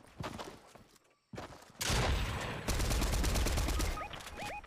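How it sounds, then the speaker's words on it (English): Fortnite gunfire rattles in loud rapid bursts, near and intense, with a short silent gap early on and dense automatic fire filling the rest. "We're getting shot."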